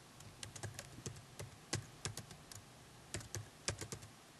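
Typing on a computer keyboard, with irregular bursts of crisp key clicks close by, pausing briefly between runs of keystrokes, alone in a quiet room.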